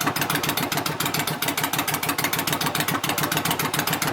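Yamaha V Star 1100 bobber motorcycle fitted with an S&S air filter idling up close, a loud, rapid, steady rumbling pulse from the exhaust throughout with no talking.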